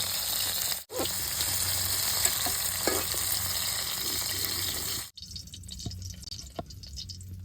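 Okra (bhindi) frying in a pan for dahi bhindi makes a close, crackling sizzle with stirring and scraping. Two brief gaps break the sound, and the frying returns a little quieter after the second one.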